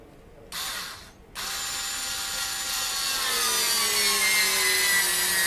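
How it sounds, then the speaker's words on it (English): An electric screwdriver whirs steadily as a screw bites into wood, the motor pitch shifting under strain, close and continuous after a brief start-stop. "So we take the screw, place it in the pilot hole, and start screwing it in."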